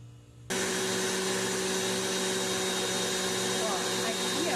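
An electric stand mixer beating cookie batter with eggs switches on abruptly after a brief quiet moment and then runs with a loud, steady motor whir that holds unchanged to the end.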